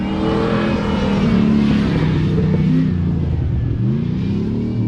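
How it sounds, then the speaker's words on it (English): A race car engine revving loudly and continuously at the Cliff Hanger off-road racing event, close and dense with rising and falling pitch as the driver works the throttle. "And here we go, another car."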